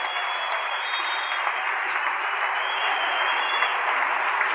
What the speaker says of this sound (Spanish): ¡Un aplauso al Cristo bendito!